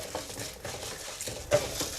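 A spoon stirs urad dal, chana dal and dried red chillies in a pan for beetroot chutney, with quiet scraping and light clinks of metal and a brief louder knock.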